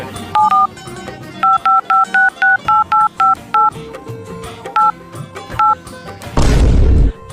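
Telephone keypad tones beeping as a number is dialed, a quick run of about a dozen clear two-tone presses with short gaps, loud and close, ending in a sudden burst of noise.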